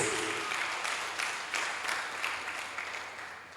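Church congregation applauding during a sermon, a moderately faint, steady wash of clapping that slowly thins out, with no talking over it.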